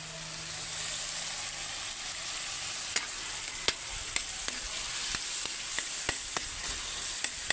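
Fish fries in a pan in a home kitchen, making a continuous oily sizzle. Sharp crackles and pops break through it at irregular intervals.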